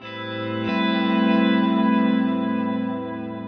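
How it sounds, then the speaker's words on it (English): An electric guitar chord rings out through a mono delay widened by a doubler and reverb, swelling into a sustained, shimmering wash that slowly fades, with no voices. "you can turn on the doubler and also turn on the reverb effect, so that basically I can make this mono delay effect sound a lot wider"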